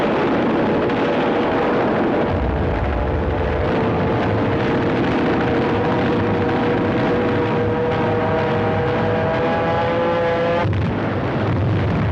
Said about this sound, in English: The U.S. planes swarmed all over the Japanese fleet.